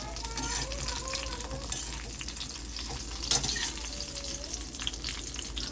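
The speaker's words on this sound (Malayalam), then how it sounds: "നമുക്കൊന്ന് കൊല്ലമുളക് വഴറ്റിയെടുക്കാം." Chillies sautéing in a hot pan, a steady close sizzle and frying hiss with occasional stirring scrapes and a clink, continuous throughout.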